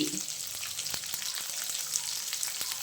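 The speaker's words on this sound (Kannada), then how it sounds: "ಇನ್ನು ಒಂದು ಐದು ನಿಮಿಷ ಫ್ರೈ ಮಾಡ್ಕೊಳ್ಳೋಣ" Mutton frying in a pan for a traditional mutton sambar, a dense, even sizzle with scattered small pops and occasional light stirring clicks, steady and close throughout without speech.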